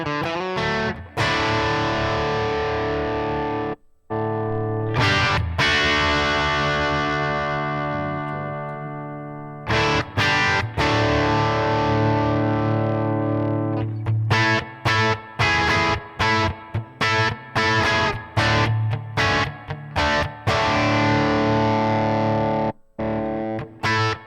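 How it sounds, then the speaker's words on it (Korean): An electric guitar played through a Zendrive overdrive pedal on a Cortex unit gives warm, sustained overdriven chords and notes that ring out. Short stops break them up, with quicker rhythmic stabs in the later half, loud and close with no talking. "이번에는 같은 페달은 아니지만 젠네이랑 젠드라이브를 한번 비교해 보겠습니다."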